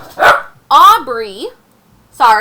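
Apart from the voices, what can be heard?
dog barking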